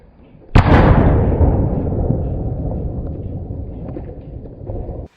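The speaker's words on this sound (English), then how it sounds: "The bomb, meant to take out his enemies, detonated right under him." A film bomb detonates in a sudden loud blast, then a long roaring rumble of fire and debris fades slowly over several seconds.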